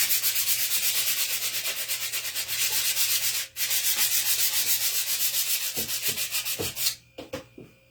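Continuous scratchy rubbing of sandpaper on wood in quick back-and-forth strokes, close and loud, ending with a few light taps.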